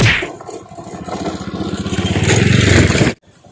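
A motorcycle engine runs close by with a loud, rapid chugging pulse that builds steadily in strength, then cuts off abruptly, leaving near quiet.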